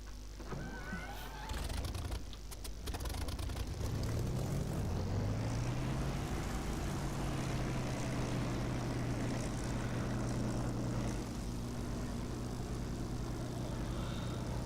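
A propeller aircraft engine in the DCS flight simulator sputters, then catches and rises into a steady droning roar that holds loud and continuous, its pitch shifting slightly.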